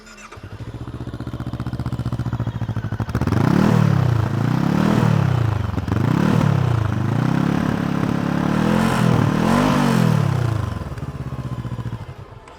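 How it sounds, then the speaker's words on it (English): A Brixton Crossfire 500XC parallel-twin motorcycle runs close by, idling and then being blipped through a series of rising and falling revs. The exhaust note is loud and rumbling, with no voices. "It's got that typical rumbliness that you associate with a parallel twin engine."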